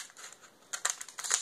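Scissors cut straight across a plastic sprinkles packet, a few close crinkling snips and rustles in a short burst, quiet at first and then sharper.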